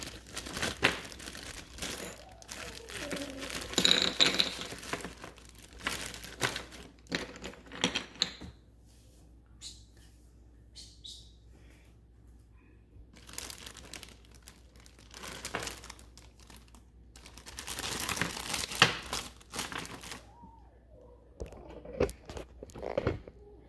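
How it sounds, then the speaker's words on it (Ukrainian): A ziplock plastic bag crinkles and rustles close by in several bursts, with quieter pauses in between. "зберігає в холодильнику у такому от пакетику зіплоку"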